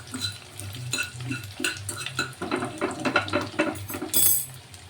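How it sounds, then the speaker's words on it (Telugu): Prawns frying in a pan for Andhra prawn pickle, with a spoon stirring and scraping in quick repeated strokes over a soft low sizzle and a hum, close and fairly quiet. "రొయ్యలు వేగుతున్నాయండి"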